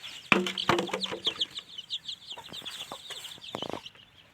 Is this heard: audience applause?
no